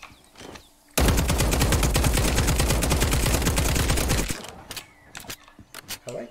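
Rapid automatic gunfire from a weapon in the video game The Cycle rattles loudly in one sustained burst of about three seconds, with quieter shots and murmuring before and after.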